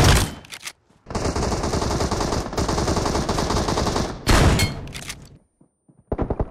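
Shotgun and sniper rifle fire in the mobile shooter game PUBG Mobile: a brief burst, then a dense, loud barrage of shots lasting about three seconds, a second sharp volley, and scattered fainter shots after a pause.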